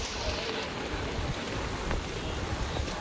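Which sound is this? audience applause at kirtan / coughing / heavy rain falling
heavy rain falling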